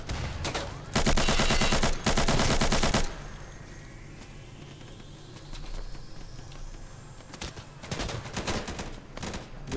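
Gunfire in the tactical shooter game Insurgency: loud, sustained automatic bursts for a couple of seconds, a quieter stretch with distant rumble, then fresh rapid volleys toward the end.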